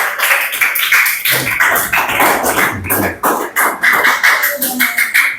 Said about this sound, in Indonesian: Tepuk tangan untuk kita semua yang sudah maju hari ini.